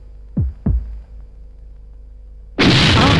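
A loud, sudden blast bursts in near the end of a kitchen explosion gag in a Telugu comedy scene. It follows two short low thuds and a quiet hum, then sustains as a dense roar.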